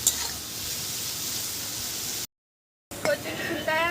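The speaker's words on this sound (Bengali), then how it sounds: "এই কচুর ফুলটা কিন্তু এইভাবে করে ভালো করে যার রস আছে এই রসটা ভালো করে ভেজে নেব" Taro (colocasia) flowers frying in a pan in a village kitchen, a steady close hiss of sizzling oil that breaks off briefly and resumes with some stirring.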